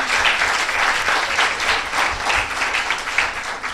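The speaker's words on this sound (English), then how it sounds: "Another round of applause for the sponsors" An audience at a library service launch applauds the sponsors: close, loud, sustained clapping from many hands in a dense, slightly pulsing wash with no speech over it.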